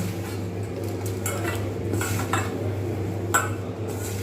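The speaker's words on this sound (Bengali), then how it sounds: "ভালো করে এটাকে আমি মিক্স করে নেব" Bread pakora batter made with rice flour is mixed in a bowl, giving steady scraping and clinking of a utensil against the bowl over a low background hum, with no talking.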